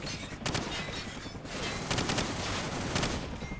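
Gunfire in the video game Call of Duty 4: Modern Warfare, a dense fusillade of repeated shots in bursts over a continuous noisy battle bed, loud and close, with no one talking.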